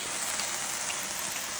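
Rain falls outside on a wet day in the rural northeast Chinese countryside, a soft, even hiss of drops with no pauses and no talk over the brief moment.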